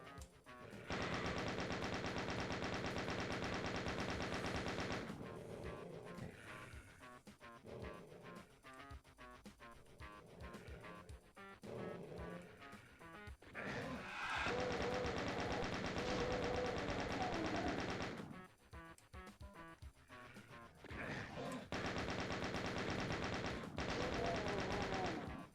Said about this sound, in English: He's firing from a long way off.